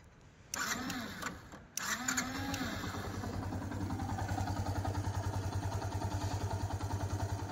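A freshly rebuilt motorcycle engine with a new carburetor catches after a couple of sharp cranking bursts, then settles into a steady, even idle throb close by.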